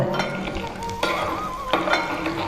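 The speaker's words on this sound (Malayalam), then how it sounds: "ഒന്ന് ചൂടാവട്ടെ എണ്ണ ചൂടായി. ഇനി നമുക്ക് കായം ഇടാം കേട്ടോ." A spoonful of asafoetida frying in hot oil in a pan for Onam lime pickle gives a steady soft sizzle, with light clinks of a spoon stirring throughout and two brief louder scrapes.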